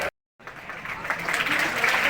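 Children and staff at a school Independence Day cultural program applauding together, a steady dense clapping that starts after a brief silence and grows gradually louder.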